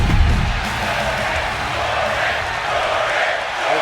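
Arena crowd in WWE 2K25 at the Crypto Arena in Los Angeles, a steady broad roar of cheering that holds loud throughout with a brief low thump at the start.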